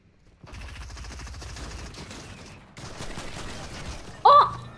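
Shotgun blasts in the Fortnite battle royale game ring out amid busy in-game action noise, ending in a loud, sharp burst near the close.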